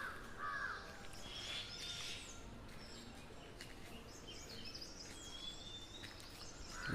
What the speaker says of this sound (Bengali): কি সুন্দর পাখি ডাকছে